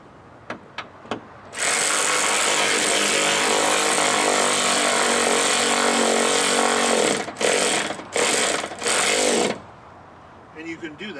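A power tool runs steadily for about eight seconds while tightening bolts on a 1999 Subaru Legacy, ending in a few short bursts, with brief knocks before and after.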